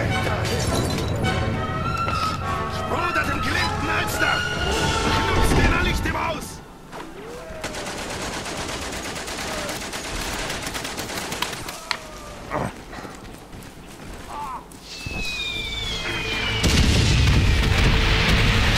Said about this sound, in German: Die Artillerie beschießt mich wieder.